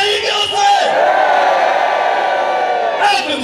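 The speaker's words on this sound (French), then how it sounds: "Applaudissons! Applaudissons!" Large crowd at a church gathering cheers and shouts in a loud, sustained roar, with yelling voices rising and falling near the start and again toward the end.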